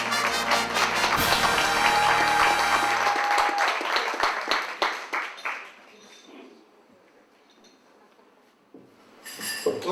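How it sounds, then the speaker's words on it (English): A theater audience applauds a guest, Tim Price, as he joins the stage: dense, loud clapping for about four seconds that thins into scattered claps and quiet room noise, then a brief swell of applause at the end. "let's give Tim a round of applause."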